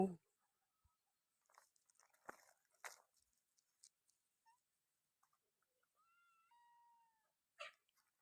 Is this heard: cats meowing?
yes